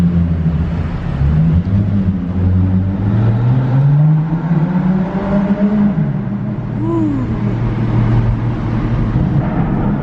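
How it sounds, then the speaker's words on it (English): A BMW F80 M3 with an equal-length exhaust, heard from inside the cabin with the windows down. The engine note rises and falls as it revs, then settles into a steady drone, loud and close. "We'll throw down the windows for you guys so you can hear that equal length exhaust."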